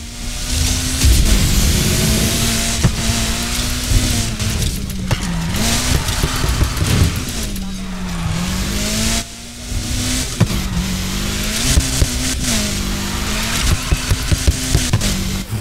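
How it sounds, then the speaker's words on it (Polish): A car engine in the racing game Need for Speed Heat screams at high revs, a loud continuous roar with rising and falling pitch sweeps as gears shift, occasional tire squeal and skid noise layered over the sustained whine. "Kurde, ten dźwięk na wysokich obrotach. Zajebisty jest."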